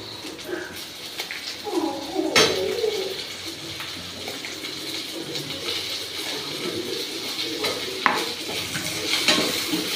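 Onions and tomatoes sautéing in a pan, heard as a soft sizzle with a spatula scraping and clinking against the metal, plus a loud clank near the start and faint bird calls in the background.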